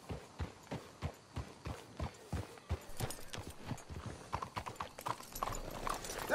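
Horse hooves clip-clop in a steady, close rhythm as horses walk in the Red Dead Redemption 2 video game, with background game ambience and no talk.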